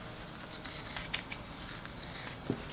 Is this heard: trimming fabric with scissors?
yes